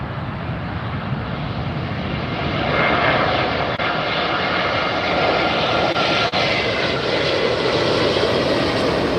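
A Lufthansa Airbus A380 airliner at LAX airport, a loud, continuous jet engine roar that holds steady and swells slightly as the aircraft passes, with no voices.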